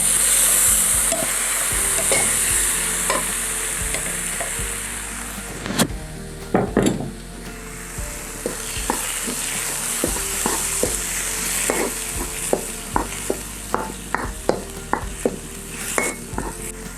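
Tomato and spices for masoor dal, with a pinch of hing, stirred in a sizzling pan: steady frying hiss with spoon scrapes and clacks that grow more frequent toward the end, no talking.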